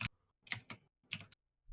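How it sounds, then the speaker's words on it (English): Close, faint clicking of computer keyboard keys in a few short irregular bursts with gaps between, no voices. "I'm hearing too much typing from Haley"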